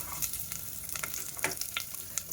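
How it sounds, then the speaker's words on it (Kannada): Onions frying in hot oil in a pot for naati mutton sambar, a steady close sizzle with small crackles and pops throughout, no voices. "ನೆಕ್ಸ್ಟು ಎಣ್ಣೆ ಕಾದ್ಮೇಲೆ ಈರುಳ್ಳಿ ಹಾಕಬೇಕು."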